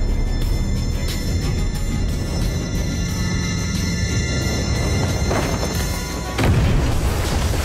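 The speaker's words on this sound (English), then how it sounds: "then pressed the bomb switch." A bomb goes off in an action movie, a deep sustained roar of blast and debris, with a fresh heavy boom bursting in near the end.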